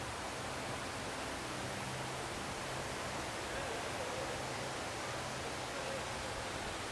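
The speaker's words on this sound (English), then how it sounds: "huge waterfall." A huge indoor waterfall inside a Singapore dome gives a steady, dense roar of rushing water, unbroken and even throughout.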